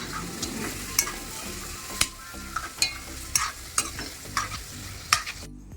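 Spiced meat tipped into a hot pan and stirred, sizzling and frying steadily while a spoon scrapes and clacks against the pan in repeated sharp strokes, close and alone until it cuts off.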